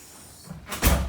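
A hotel room door at Disney World's Pop Century resort unlocks and swings open with a MagicBand: a soft click followed by a brief, close latch-and-swing noise, with no talking.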